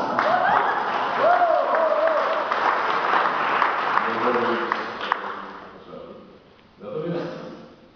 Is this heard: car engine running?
no